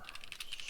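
Rapid, close clicking of keys on a computer keyboard, about a dozen quick taps in an even burst.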